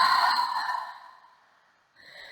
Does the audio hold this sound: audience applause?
no